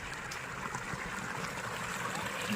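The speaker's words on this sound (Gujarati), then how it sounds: "પાણી અહીં ઉપરથી પડે જો અવાજ પણ આવે" Water from a small stream falls and flows outdoors, a faint, steady rushing wash with no voices.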